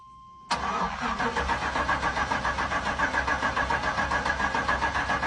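A 1995 GMC engine turns over and keeps running with a steady, pulsing rumble, loud and close, after a brief moment of quiet with a faint tone.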